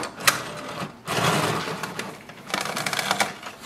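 HP Smart Tank 5100-series all-in-one printer running a photo print on glossy paper, giving a mechanical whir with clicks, a pause, then steady feeding and clattering bursts at close range, with no talk.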